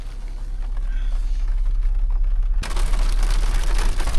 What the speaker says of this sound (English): they got some damn raindrops falling